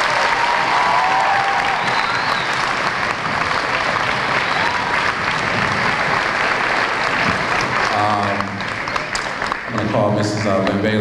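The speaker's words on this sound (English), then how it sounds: "let's give him another round of applause." A crowd at a middle school bridging ceremony applauds a returning guest speaker, loud sustained clapping filling the room, with voices rising near the end.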